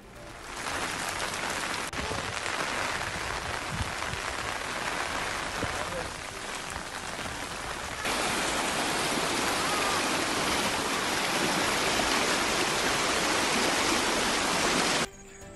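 Floodwater rushes through swollen streams after heavy rains from Cyclone Montha in Telangana, a steady, loud broadband roar that runs continuously and grows slightly stronger partway through before cutting off.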